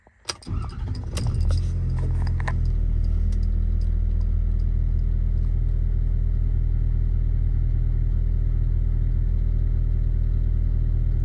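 A truck fitted with a crane and compressor, showing 272,151 miles, starts up after a brief jangle of keys and clatter, then settles into a loud, steady engine rumble that runs unbroken, with no talking.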